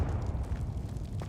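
Bombarda spell explosion in Hogwarts Legacy, a rolling low boom with rumbling debris that stays loud across the short moment, a small crackle near the end, no talking.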